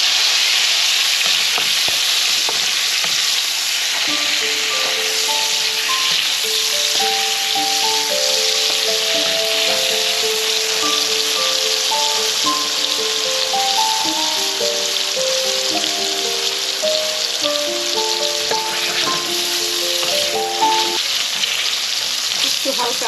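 Eggplant pieces fry in hot oil until reddish, for a hilsa and poppy-seed paste curry: a loud, dense, unbroken sizzle lasting over twenty seconds, with a gentle melody playing underneath.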